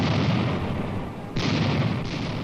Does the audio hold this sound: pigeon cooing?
no